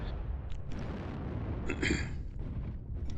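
Missile explosions boom in the MechWarrior Online video game, several muffled blasts rumbling one after another with a sharper burst near the middle, while a voice speaks briefly over them.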